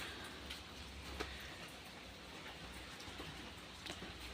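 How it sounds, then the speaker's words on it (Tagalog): Steady rain falls outside a house in a steady, faint hiss with occasional soft drips, heard from indoors and without talk. "Umuulan na naman."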